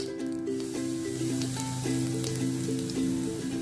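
Curry leaves sizzle in leftover hot oil, a steady close-up crackle and hiss running through the whole stretch, with soft music playing underneath.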